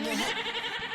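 A lamb bleats in a comedy-show setting: one wavering, nasal bleat lasting about a second, close and fairly loud, with no talking.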